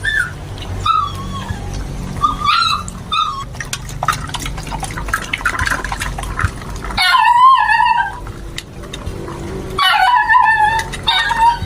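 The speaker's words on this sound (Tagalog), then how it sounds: "Yan pong aso natin, no?" A dog barks in a few separate bursts, fairly close and loud, over a steady background of running or dripping water.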